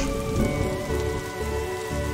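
Rain pattering steadily on a roof in the video game The Darkside Detective, a dense, even hiss of drops with no voices over it.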